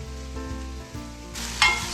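Sliced onion sizzles in hot oil in a kadai as it fries toward light brown, a steady close crackle with a brief brighter hiss near the end and no talking.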